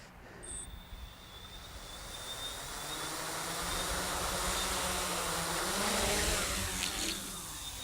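Motors of a 550-size hexacopter drone whine and buzz as it takes off, swelling from a lower drone to a louder, wavering hum with shifting pitch as the throttle changes. The sound is fairly close and steady, with no speech.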